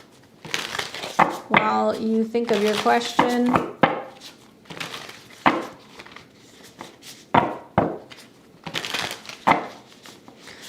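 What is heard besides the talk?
shuffling a deck of tarot cards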